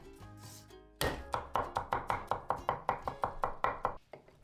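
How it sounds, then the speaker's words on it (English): Knife chopping garlic cloves on a cutting board, a quick run of about fifteen sharp, evenly spaced taps after a brief quiet start, close and crisp, then stopping. "Chop 3 cloves of garlic."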